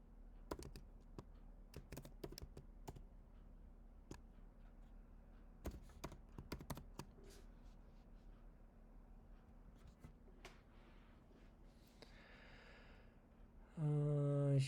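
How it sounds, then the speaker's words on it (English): Quiet key presses on a computer keyboard while a test username and password are entered, sparse irregular clicks in short bursts over a low hum, ending in a brief louder tonal sound. "So yeah, I type a user, test user, and password."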